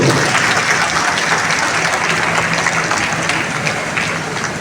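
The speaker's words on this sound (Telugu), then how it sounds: "సరే గట్టిగా చప్పట్లు." At a public event, a large audience applauds loudly and continuously in a dense, even wash of clapping that holds steady throughout and tapers slightly at the end.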